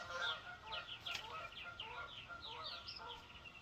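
Several geese honk in quick, overlapping calls, a short burst of repeated nasal honks heard at moderate distance over faint background noise.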